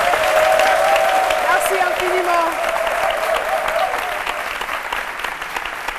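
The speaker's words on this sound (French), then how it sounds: "On le raccompagne avec des applaudissements," A studio audience applauds on the Ivorian TV talk show C'Midi on RTI 1: steady, dense clapping that tapers slightly toward the end, with a voice speaking over it.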